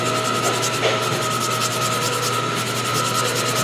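Steady back-and-forth rubbing of a fine sanding sponge, close up, with a rhythmic scratchy texture and a faint hum underneath.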